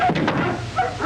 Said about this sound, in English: Quiet those hounds.